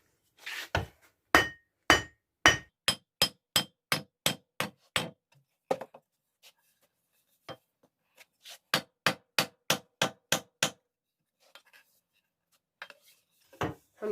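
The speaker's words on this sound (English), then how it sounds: "we need a hammer to put it on" Metal hammer blows drive an axe head onto its handle in rapid sharp bursts, two runs of steady strikes separated by a pause, with a few scattered taps at the end, close and loud, no talking.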